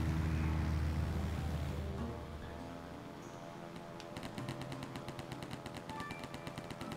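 Gunfire aimed at the player in the flying video game Airheart: rapid machine-gun bursts rattle in a fast, even rhythm through the second half over engine drone and wind, after a louder rumbling opening.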